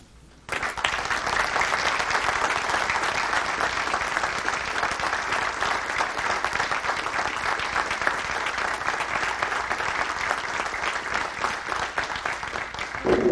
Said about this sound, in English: give you another round of applause together